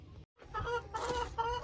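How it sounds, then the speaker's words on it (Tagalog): Black chickens cluck close by in a short burst, several hens calling over one another after a brief silent gap. "Lahat ng black kong manok ay nandyan na."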